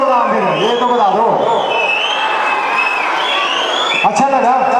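Audience at a school annual function whistles and claps steadily, with shrill whistles riding over crowd noise and raised voices throughout.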